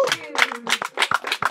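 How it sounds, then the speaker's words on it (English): A small studio audience at a couples game show gives brief, scattered clapping in a few quick bursts, mixed with voices talking over it. "A round of applause for them."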